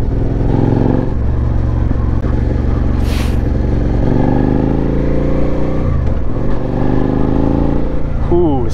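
A Suzuki SV650 motorcycle engine on an early morning ride, loud and close, with its twin-cylinder drone rising and falling through revs and gear changes, plus wind buffeting and a voice talking over it.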